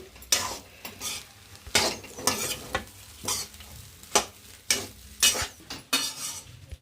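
Spatula stirring egg fried rice with salt in a hot pan: repeated scraping strokes about once a second, each with a bright metallic scrape over a soft sizzle, close and clear with no voices.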